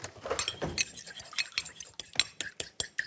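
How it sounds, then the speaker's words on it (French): Egg white being lightly whisked in a bowl, a quick series of clinking, scraping strokes of a whisk or fork against the side, close and fairly quiet, with no talk over it. "On va fouetter ça légèrement."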